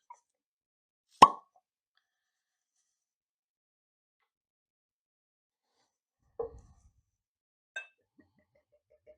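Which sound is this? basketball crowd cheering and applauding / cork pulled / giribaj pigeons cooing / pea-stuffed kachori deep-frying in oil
cork pulled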